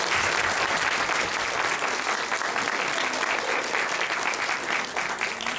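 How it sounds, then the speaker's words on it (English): Sustained applause from an awards ceremony audience greeting 2010 leadership award nominees, a dense, even clapping that carries on steadily throughout. "So a round of applause, please,"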